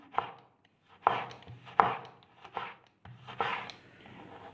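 A handful of close, uneven knife strokes slice through a tomato onto a board, each a short crisp thud with pauses between.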